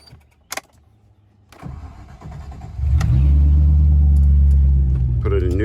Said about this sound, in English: So let me quickly start up the engine.